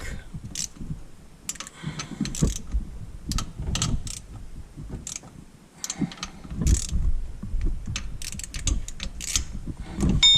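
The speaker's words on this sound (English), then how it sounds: "Then we'll torque them down to spec." A wrench ratchets in rapid, close clicking bursts while torquing water pump bolts on a 2016 Chevy Express 2500 van, with brief pauses between the runs of clicks.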